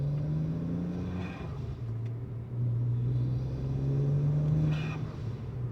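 A BMW N54 engine with twin turbos, made louder by a modification, drones steadily while driving, with faint whistling turbo spool rising over the engine note twice.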